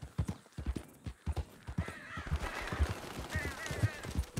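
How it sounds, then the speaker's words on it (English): Crows cawing in Red Dead Redemption, harsh calls rising over steady horse hoof clip-clops close by, the cawing repeating through the second half. "Yes, yes, birds."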